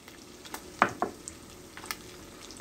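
Sliced calabresa sausage sizzles and crackles in a pan, a quiet, soft fry broken by a few sharper pops and stirring clicks.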